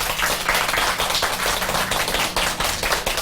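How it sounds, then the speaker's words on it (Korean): A studio audience claps to welcome a guest doctor onto a Korean talk show, steady close clapping from many hands with a slightly uneven rhythm, filling the short stretch without speech. "큰 박수로 맞아주시죠"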